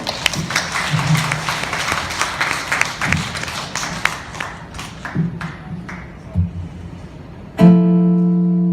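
Scattered hand claps from a small crowd at an acoustic Korean traditional music concert in Seoul City Hall's Citizens Hall patter unevenly and thin out, then a sustained musical tone starts.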